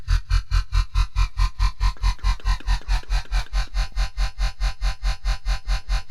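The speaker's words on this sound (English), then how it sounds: "the more of that like metal clankiness, like deathly sound that you get." A heavy, distorted dubstep bass synth made in Serum pulses in a steady rapid rhythm, growling and metallic, loud and continuous with no voices.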